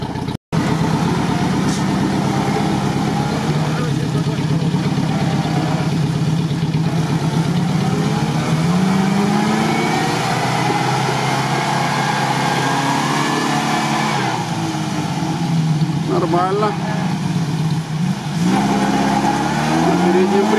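A UAZ off-road vehicle engine runs loud and close, a steady rumbling drone with shifts in revs, while voices talk over it.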